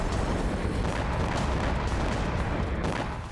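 Explosions and fires from drone attacks in Russian cities, heard as a dense, continuous rumbling roar with crackling bursts and no clearly separated blasts, loud throughout with no talk.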